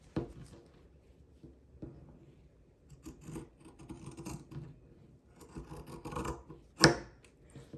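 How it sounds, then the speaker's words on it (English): Scissors clipping along a fabric seam allowance to grade a skirt seam, soft irregular snips and rubbing of cloth at close range, quiet, with one sharper snip near the end and no talk. "So I just clip along, and that really does grade the seam when you hold them on an angle"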